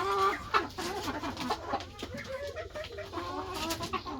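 Several chickens cluck close by on a small home farm, with overlapping bursts of clucks and calls continuing steadily and fairly loud throughout, without speech.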